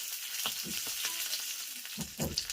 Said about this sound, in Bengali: কাঁচা লঙ্কার কারি পাতাটাকে তেলের সঙ্গে একটু ভালোভাবে ফ্রাই করে নিতে হবে